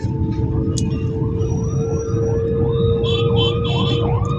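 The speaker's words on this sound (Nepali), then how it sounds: "यहाँ कराउँदै चिच्याउँदै आहा एम्बुलेन्स बाटो छैन" An ambulance siren stuck in traffic, wailing in repeated rising and falling sweeps over a constant rumble of road noise, with voices talking nearby.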